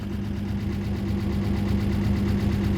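A car engine idles steadily at close range, a loud, slightly rough low rumble with a faint knocking pulse running continuously and without a break.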